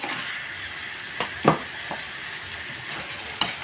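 Pork bones sizzle and fry in a pan with mung beans, giving a steady hiss broken by a few sharp pops and stirring clatters.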